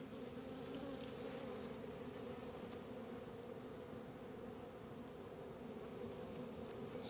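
Honey bees buzzing steadily at an opened hive during a spring inspection, a dense, continuous drone close by with no voices over it.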